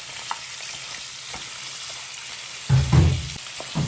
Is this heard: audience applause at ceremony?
no